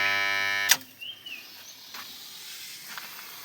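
An electric water pump motor hums steadily with a strong tone, then is switched off with a sharp click, leaving quiet outdoor ambience with faint hisses and a distant animal call.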